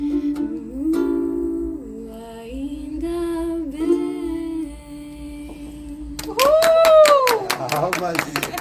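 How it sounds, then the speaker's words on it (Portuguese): Clapping for a female singer in a radio and TV studio breaks out after a stretch of sung melody. It is a few seconds of sharp, fairly close claps mixed with a voice. "Palmas."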